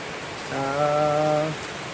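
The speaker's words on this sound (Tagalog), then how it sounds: "Dito, madaling araw, umulan, hindi na huminto." Heavy rain falls on a terrace as a steady, close hiss that lasts the whole clip, with a brief tonal hum rising over it in the middle.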